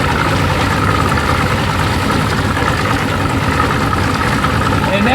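A 1992 Johnson 60 hp outboard motor idling while trolling over weeds, with a loud, steady low rumble and rattle continuing throughout, a voice talking over it.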